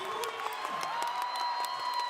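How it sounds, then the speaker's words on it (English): A crowd cheers wildly for their fighter Ricky Seitong at a live MMA title event, a steady dense roar of applause and whoops held loud throughout, with no pauses or lulls. "The crowd are going wild here for their fighter, Ricky Seitong"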